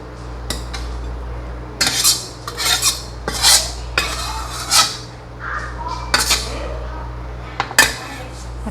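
Water spinach is stir-fried in a pan slick with oil, the spatula scraping and clattering against the metal in irregular bursts over a low hum, with a voice speaking briefly between the strokes.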